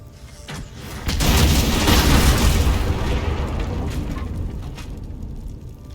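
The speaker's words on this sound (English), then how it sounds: "That was a heck of an explosion." A fire arrow sets off a loud booming explosion in Baldur's Gate 3, a heavy blast followed by a long rumbling decay that fades over several seconds.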